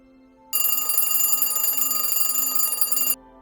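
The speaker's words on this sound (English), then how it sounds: "Now that the timer went off" A kitchen timer rings in a steady metallic bell trill for about two and a half seconds, starting abruptly and stopping sharply, loud against an otherwise quiet room.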